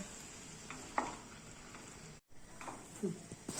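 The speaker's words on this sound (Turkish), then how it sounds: "domatesimizi içerisine aktaralım. Bu iyice kavrulsun." Chopped tomatoes sizzle and roast in a hot pan for a Turkish pea stew, a steady quiet frying hiss broken by a few soft stirring clinks, with a brief dropout midway.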